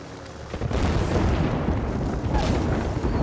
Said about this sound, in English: I put an airstrike on them.